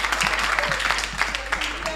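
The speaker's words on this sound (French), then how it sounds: "On l'applaudit," Audience applause in a radio studio, dense clapping throughout with a voice talking over it.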